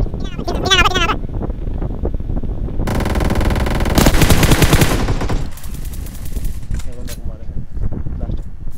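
Video game gunfire breaks out in loud bursts of rapid machine-gun fire with single shots between them. Players talk excitedly over the shooting, and there is windy noise on the microphone.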